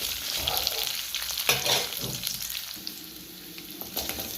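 Round red chillies fry in groundnut oil with a steady, close sizzle, broken now and then by louder crackles and the scrape of stirring.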